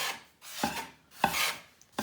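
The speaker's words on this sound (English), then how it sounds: "why don't we grab a spatula and work that in" A spatula scrapes and works ingredients into homemade pasta dough in three rough rubbing strokes, each starting with a sharp attack and trailing off, close and fairly quiet.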